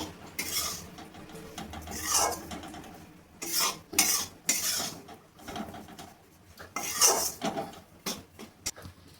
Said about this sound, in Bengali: আমি একবারে সবটা দিয়ে দেবো না, অল্প অল্প করে দেবো আর নাড়বো